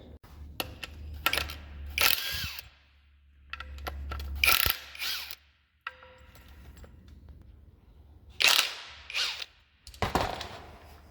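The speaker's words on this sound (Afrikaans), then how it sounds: "En dan het jy hierdie klomp klein boutjies hier in die bokant wat jy saam vashou, reg rondom, wat jy moet losmaak om hom af te kry." A ratchet wrench loosens the small bolts on a sump cover, clicking in several quick bursts with pauses between, close and fairly crisp.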